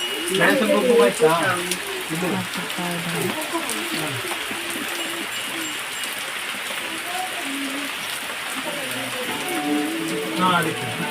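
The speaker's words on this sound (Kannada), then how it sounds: "ಮಳೆ ಮಳೆ" Rain pours outside a home during the Gowri-Ganesha festival, a steady, moderately loud hiss that runs the whole way under people talking nearby.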